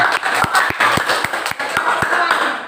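A group claps rhythmically in quick, sharp beats, close and loud, with voices mixed in.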